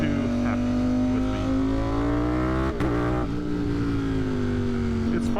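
A 200+ horsepower motorcycle engine, geared with a smaller front sprocket, revs hard and loud with rising and falling pitch, popping and crackling through the exhaust while it runs rough, close and continuous throughout.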